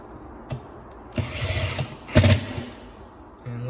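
A screw is driven into a metal range receptacle box, giving short, quiet bursts of ratcheting clicks and grinding with brief pauses between them.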